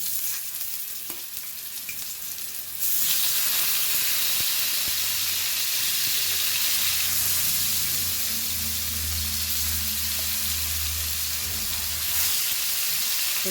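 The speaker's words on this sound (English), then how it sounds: "1 tablespoon of oil and fry this all. Plain fry on medium" Ground spice paste for a Goan elephant foot yam curry fries in a tablespoon of oil over medium heat, giving a steady, loud, close sizzle and hiss. Low stirring scrapes come and go beneath it, and no one speaks.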